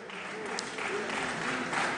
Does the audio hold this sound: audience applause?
yes